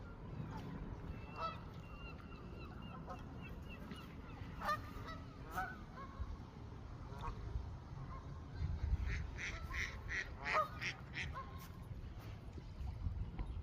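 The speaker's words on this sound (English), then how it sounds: "There's loads of geese." Geese honk and ducks quack in a noisy flock on a lake, calls overlapping irregularly, some close and loud, with low rumbling background noise.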